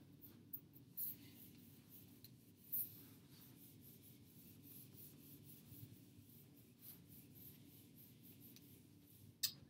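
Writing is erased from a board during a math lesson on composition of transformations, giving soft, quiet rubbing strokes with a few brief knocks and no talking.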